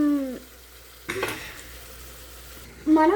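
A spoon stirs chicken curry in a hot pan, scraping and sizzling for a moment, with a brief voice at the start and end.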